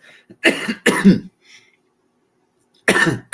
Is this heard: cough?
yes